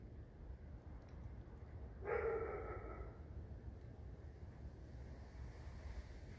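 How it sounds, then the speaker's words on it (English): A single dog bark rings out outdoors at night near a house shortly before daybreak, a brief, moderately loud burst over a steady rush of wind-like background noise. "Damn dog."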